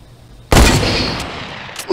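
A shooter video game lets out a loud, close gunshot burst that rings and decays over the remaining second, with a faint extra crack near the end.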